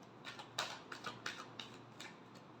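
Tarot cards being shuffled, a quiet run of crisp papery flicks and riffles in an irregular rhythm, faint and close with no talk.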